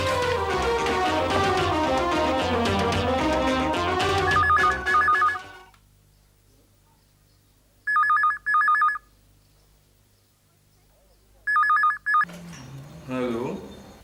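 An office landline telephone rings in two short double bursts after background music fades, with a voice starting to speak near the end.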